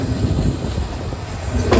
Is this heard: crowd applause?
no